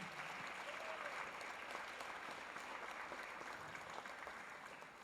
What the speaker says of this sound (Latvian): Arī aplaus viņiem